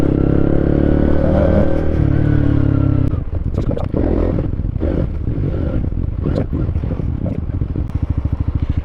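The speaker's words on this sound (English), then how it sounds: "Filtering on a bike that you've literally only just sat on for the first time is an interesting experience." A Honda CB125 motorcycle's engine hums steadily, then chugs and revs unevenly while filtering through London traffic, with rattling clatter and passing road noise close by.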